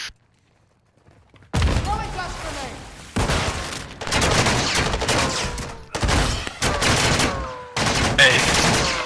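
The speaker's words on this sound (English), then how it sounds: "Oh, taking fire." Dense, heavy gunfire in Call of Duty: Modern Warfare II, with rapid automatic bursts and booming shots rolling in repeated waves after a quiet start, loud and close, with faint player talk at moments.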